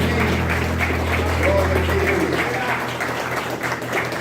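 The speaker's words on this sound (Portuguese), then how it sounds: "Pois aplauda o Senhor Jesus, aleluia." A church congregation at a special Mother's Day communion service claps together in a steady, continuous wash of applause, with a low hum and voices blending underneath.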